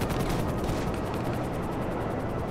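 Dense, continuous gunfire rattles in a GTA Online mission as enemies shoot at the player, a loud, unbroken barrage of rumbling shots with no talking.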